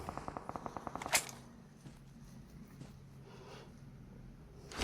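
Gunfire in the mobile battle royale game BGMI, a rapid burst of about eight evenly spaced automatic shots followed by a sharp louder crack, then quieter game ambience with a few soft distant pops.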